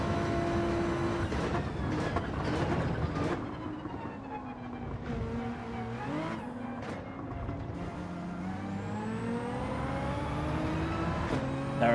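Race car engines in Gran Turismo 7, including a Supra, drone steadily with rising and falling revs, a loud continuous engine tone with a few sharp gear-change blips and no talk.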